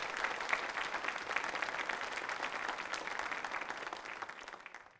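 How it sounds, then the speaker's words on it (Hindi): A studio audience at a televised quiz show applauds, a dense sustained clapping that holds steady for several seconds before tapering off, with no voices over it. "तालियां बजाइए उनके लिए जोरदार तरीके से आप।"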